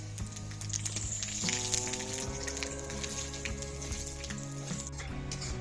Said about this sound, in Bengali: শুকনো লঙ্কা পাঁচ ফোড়ন তেজপাতা ভাজা হয়ে গেছে